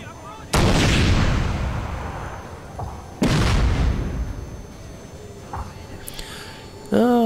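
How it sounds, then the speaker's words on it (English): Artillery guns fire in the Shogun Total War 2 video game, Fall of the Samurai: two loud booms, each followed by a long fading rumble, then smaller distant pops and a final sharp burst. "next time the guns fire, I'll advance my men beyond them"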